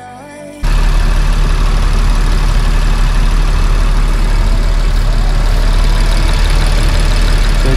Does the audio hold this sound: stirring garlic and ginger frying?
no